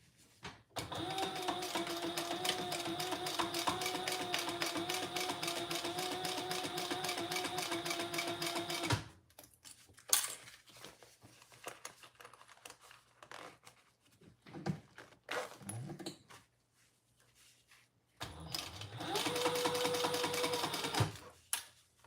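A sewing machine runs fast, even stitch bursts while stitching a Traveler Pouch bag over previous stitches: a long steady run of rapid needle clatter, a pause with small handling clicks and shuffles, then another short burst; no voices.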